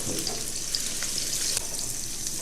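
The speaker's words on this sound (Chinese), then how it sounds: "油烧热以后，下入我们提前切好的葱姜，给它爆一下香" Chopped scallion and ginger fry in hot oil in a wok, giving a steady, dense, close sizzle with faint crackles and no voices.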